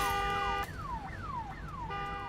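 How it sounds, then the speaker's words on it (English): A car alarm blares in the Hitman 2 video game, its tone sweeping repeatedly downward in steady cycles, loud and close, with no voices. "Ignore the car alarm and the bullet hole."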